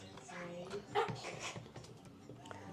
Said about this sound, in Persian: سگ.